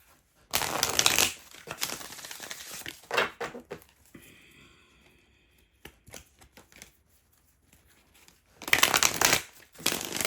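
Oracle cards being shuffled in bursts of crisp riffling and flicking, loud at the start and again near the end, with softer handling and light tapping in between; no voices.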